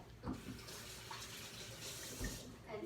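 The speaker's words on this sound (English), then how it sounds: "I'm gonna wash my hands off a little bit" Tap water runs steadily into a sink while hands are washed beneath it in a home kitchen, a continuous close splashing with a few brief louder bumps and no talking.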